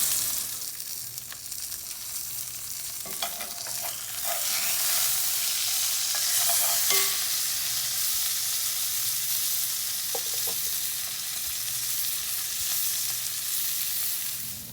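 A beef steak sears in a hot pan with a steady, close sizzle and crackle, with occasional small clicks and scrapes from handling the meat, and no talking.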